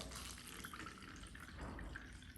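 Water running into a cup holding sugar, a steady, faint splashing pour that continues without a break.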